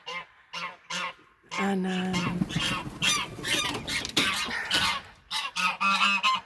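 A nesting domestic goose honks loudly and repeatedly, close by, in a long noisy burst of harsh calls with short honks before and after.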